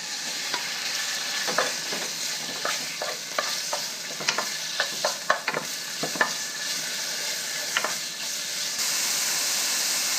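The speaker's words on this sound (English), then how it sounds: "let's cook the pork first" Pork tenderloin stir-fries in about a teaspoon of oil in a pan: a steady sizzling hiss close by, broken by irregular scraping clinks as a utensil stirs and turns the meat.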